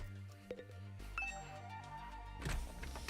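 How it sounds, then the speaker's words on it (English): A doorbell chimes inside the video game The Hundred Line, a couple of bright ringing tones standing out over steady game music, fairly clear but not loud. "another sound echoed through my room, the doorbell"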